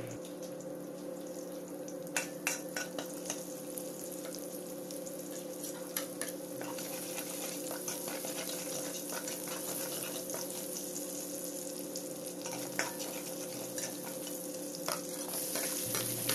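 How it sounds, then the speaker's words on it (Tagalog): Sliced garlic sautés in an oiled pan with a continuous sizzle dotted with sharp crackles and pops, close and fairly loud, with no voices. "dito na rin tayo maggisa ng sibuyas at bawang. Ayan, ilagay na natin ang hiniwang bawang"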